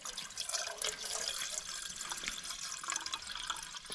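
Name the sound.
pouring peaty yellow water into a camping kettle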